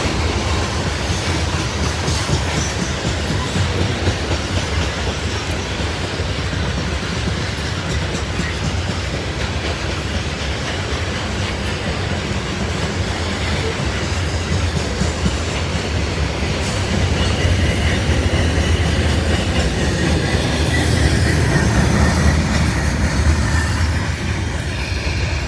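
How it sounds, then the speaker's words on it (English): A loaded coal train rolls past on the rails at Kenova, a loud, continuous rumble of wagons with rhythmic clickety-clack and occasional faint wheel squeal, no voices. "First 3 trains were coal trains."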